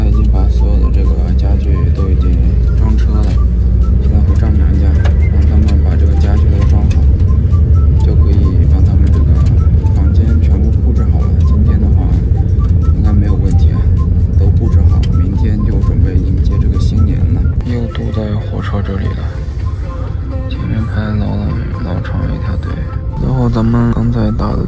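A large hired cargo truck for hauling bulky furniture, running close by as a loud, steady, low engine rumble with broad road noise that carries through the whole stretch and eases slightly near the end.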